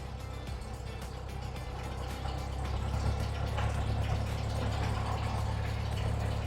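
A Cessna 172M aircraft engine idles at about 1,000 RPM, a steady low rumble that holds even and close throughout with no voices over it.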